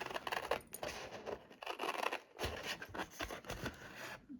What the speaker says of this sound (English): I thought those scissors would cut better